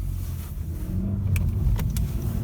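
A Honda Civic 1.4 i-VTEC Sport drives along with a steady low engine and road rumble inside the cabin, broken by a few brief faint clicks.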